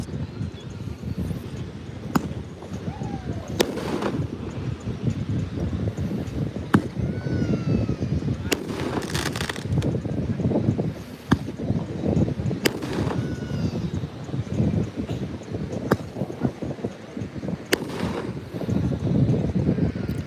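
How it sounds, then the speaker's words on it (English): Fireworks burst near a beach bar in Legian, with sharp booms and crackles at irregular intervals over wind noise on the microphone. "Oh, actually we might see some fireworks first"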